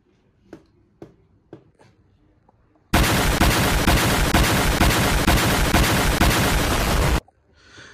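A loud, dense video-game bomb explosion erupts and roars continuously for about four seconds before cutting off, preceded by a few faint clicks.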